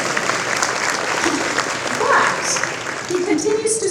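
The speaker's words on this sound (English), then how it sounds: "Yeah, I think we should clap for that" At a dedication ceremony, an audience claps steadily for a bowler's 299 high score. The applause is dense and sustained, and a few voices and cheers rise briefly over it.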